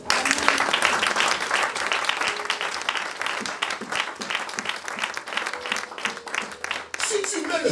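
A church congregation bursts into sustained applause and cheering in praise of the Lord, a dense, even wash of clapping that carries on for several seconds with voices mixed in.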